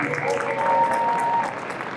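A convention audience at a fan panel breaks into steady, dense applause that holds at full strength for about a second and a half, then eases slightly. It comes from a large crowd close by, with no voices standing out.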